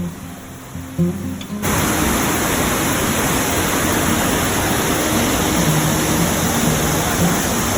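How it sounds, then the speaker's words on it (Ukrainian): Waterfall in Yaremche in the Ukrainian Carpathians, a steady loud roar of falling water that starts after a quieter first second and continues unbroken, with no voices. "Побачимо водоспад надзвичайної краси."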